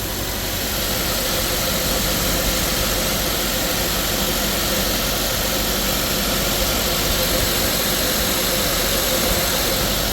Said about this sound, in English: you can see the compressor is spinning